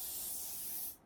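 Hair spray is sprayed onto hair during an updo styling session, a single close, steady aerosol hiss lasting about a second before it cuts off abruptly.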